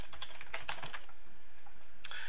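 Typing on a computer keyboard while logging in with a username and password: a quick burst of key clicks, a pause, then a few more keystrokes near the end, close and clear with no talk.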